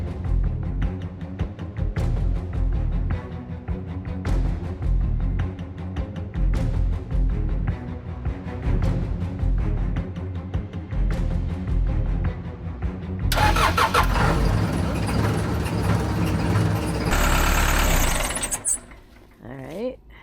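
An old backhoe's engine is cranked by the starter with a repeating chug, then catches and fires into a loud running roar before cutting off near the end. A voice is briefly heard during the cranking.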